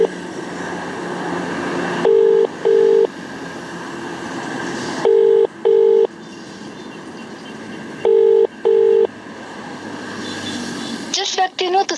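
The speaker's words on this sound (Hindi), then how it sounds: "देखिए फ़ोन बज रहा है।" Phone ringback tone on an unanswered call: paired ring bursts repeat three times at steady intervals over a continuous hum of line noise, followed by a short electronic jingle at the end.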